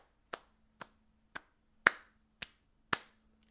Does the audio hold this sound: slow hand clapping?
yes